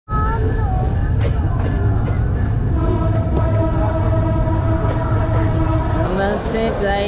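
The Benapole Express train rolls past nearby with a loud, continuous rumble and clatter, overlaid by thin metallic squealing tones for several seconds.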